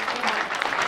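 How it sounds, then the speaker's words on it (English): Studio audience clapping loudly throughout, a dense steady wash of claps that covers a voice at a televised debate. "And now what she's saying is being drowned out by claps."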